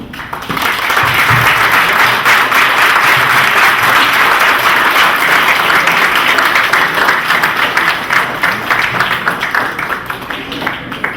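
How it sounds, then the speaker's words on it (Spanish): Sustained audience applause at the close of a lecture colloquium on memory, dense and even clapping from a large crowd filling the room, holding steady for several seconds before gradually thinning toward the end. "muchas gracias al doctor y otro aplauso"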